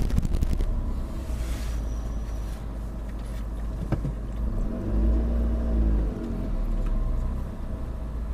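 Heavy vehicle rumble from a garbage truck pulling away on a morning street after collecting bins, a low steady engine drone with a brief swell of revving near the middle, fairly close and loud, with wind noise and no talking.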